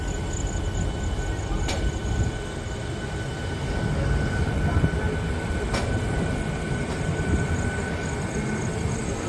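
A passenger train pulls out of Tarapith Road station, its carriages rumbling loud and continuous from inside, broadband roar steady with a couple of sharp clanks, no speech.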